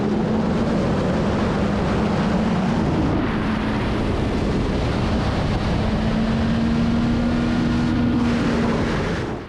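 A CFMOTO Moto 675 SR-R sport motorcycle in fifth gear at about 175 km/h roars steadily with a droning engine tone on a race track. Heavy wind rush masks most of the sound, and no one talks.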